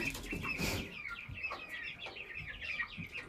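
Young roosters and hens in a crowded pen keep up a busy run of clucks and short calls, several birds overlapping at moderate distance.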